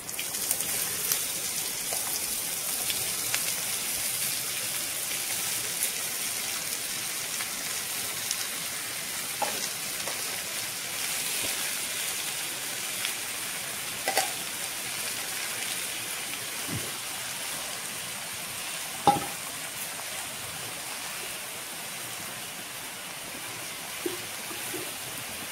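Chopped bottle gourd fries in hot oil with cumin, a soft, continuous sizzle with scattered crackles and occasional louder pops, heard alone and fairly quiet throughout.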